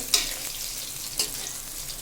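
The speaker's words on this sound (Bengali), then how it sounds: "মাছ এখন ভাজা হয়েই গেছে আমার মাছ ভাজা কমপ্লিট" Large catla fish pieces frying in oil, a continuous close sizzle with two brief sharp crackles of stirring or turning, no voices.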